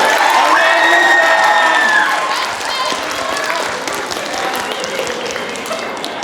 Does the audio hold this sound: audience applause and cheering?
yes